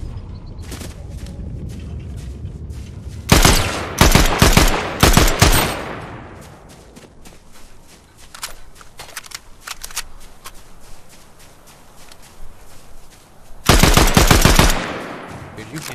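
Gunfire in Fortnite, with two loud rapid bursts early and another near the end, and scattered fainter shots between them.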